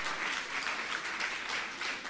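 Church congregation applauding during a sermon, a soft, even patter of many hands clapping, steady and somewhat distant, with no talk.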